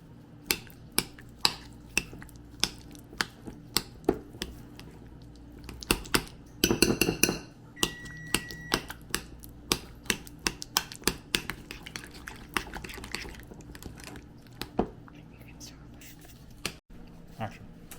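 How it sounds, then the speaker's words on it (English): A spoon stirs crab dip mixture in a bowl, giving close, irregular clinks and taps against the bowl that run through the whole stretch, with a brief burst of busier scraping midway and soft speech in the background. "I'm going to stir this all up."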